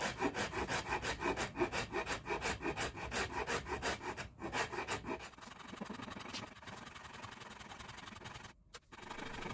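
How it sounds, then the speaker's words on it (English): A rasp files the wooden heel of a cigar box guitar in quick, rhythmic scraping strokes, close and crisp, then shifts to a denser continuous rasping with brief pauses. "And I just go at it with a rasp."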